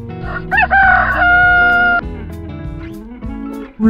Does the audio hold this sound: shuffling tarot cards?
no